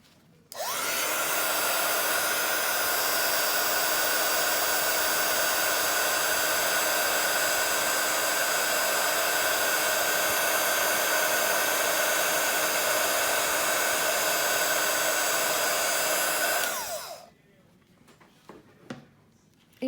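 A heat tool melts embossing powder on a stamped butterfly, roaring in a steady, loud blast of hot air for about sixteen seconds before switching off, followed by a few faint clicks.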